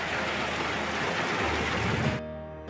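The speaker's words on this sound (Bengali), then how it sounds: "প্রচুর পরিমাণে বৃষ্টি হচ্ছে" Heavy rain pours during a violent storm, a dense, even wash of falling water heard close by that cuts off sharply near the end, leaving a faint hum.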